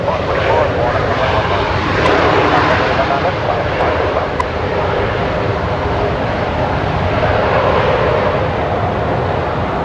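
A QantasLink airliner arriving from Emerald lands on runway 19 left at Brisbane Airport at night, its engine roar loud and steady throughout.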